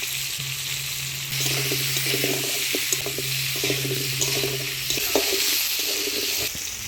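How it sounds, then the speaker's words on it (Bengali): Potatoes seasoned with turmeric and salt frying in oil left from fish, in a Bengali village kitchen, with a steady, close, loud crackling sizzle and bubbling, scattered pops and no voices. "মাছগুলো সব ভেজে নিলাম, এই তেলে আলুগুলাও ভেজে নিব।"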